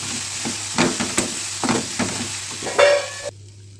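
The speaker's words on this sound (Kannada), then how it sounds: "ಸ್ವಲ್ಪ ಫ್ರೈ ಮಾಡ್ಕೋಬೇಕು" Tomatoes fry in oil in a pan for a Kannada home-cooking dish, with a steady close sizzle and intermittent stirring scrapes and clatters. The sound cuts off abruptly near the end.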